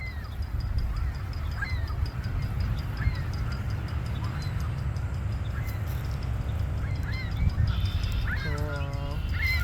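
Ducks and geese on Long Island, NY, honk and quack in scattered calls at moderate distance over a steady low rumble of outdoor ambience, with a short burst of rapid honking near the end.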